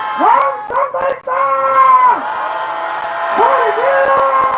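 A rally crowd outside an investigation office at night roars and shouts in long sustained waves, loud and close, with raised voices rising and falling through the cheering.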